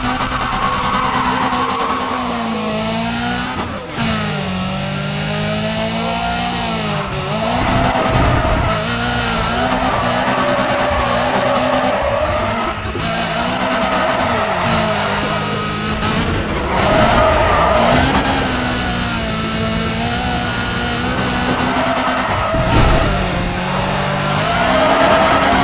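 A race car in NFS ProStreet roars under hard acceleration with a nitrous boost, its engine note climbing and shifting through gears while tires squeal and skid, loud and continuous throughout.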